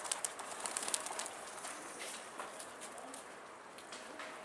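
Pigeons close by give soft cooing calls and brief wing flutters, strongest in the first second, over a faint outdoor hiss with no talking.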